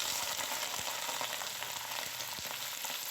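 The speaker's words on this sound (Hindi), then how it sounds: "ऑयल हमारा गर्म हो गया है, अब मैं डालूंगी चिकन।" Chicken frying in hot oil in a pan for a chicken korma, a steady dense sizzle and crackle throughout with a few soft knocks and no talking.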